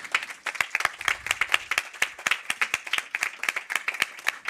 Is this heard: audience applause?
yes